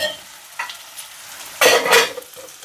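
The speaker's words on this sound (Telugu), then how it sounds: "ఆనపకాయ మజ్జిగ పులుసు పోపు వేయాలి." Spices tempering for a bottle gourd buttermilk stew sizzle and crackle in a pan in a village kitchen, with brief stirring bursts and a louder sputter near the end, heard close with no talking.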